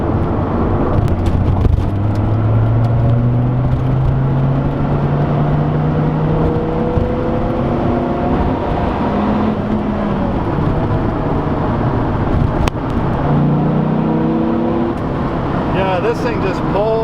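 A 2003 Dodge Viper SRT-10 accelerates hard, its V10 engine note climbing through gears in long rising sweeps with brief shifts between, loud and close from inside the car.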